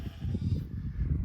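A sheep bleats in a low, wavering, drawn-out call close by in the Peak District countryside near Castleton, alone with no talk.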